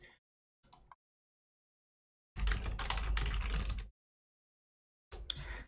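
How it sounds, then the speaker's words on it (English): Bursts of rapid clicking keystrokes on a computer keyboard, close and fairly quiet, separated by silent pauses, with a longer dense run of typing in the middle. "So if you hear me typing, it's just because I'm having to get some things set up."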